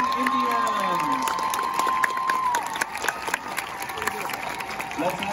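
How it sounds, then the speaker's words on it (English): Crowd at a high school marching band performance applauding and cheering for the East Carolina High School Marching Indians, steady clapping with scattered shouts and whistles under a faint announcer. "Let's have another round of applause for all the bands that performed here tonight."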